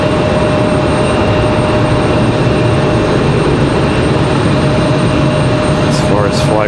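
An Icelandair Boeing 737 MAX 9 roars steadily as it flares and touches down at a stormy Raleigh-Durham airport, a loud continuous broadband rumble with a whine rising near the end.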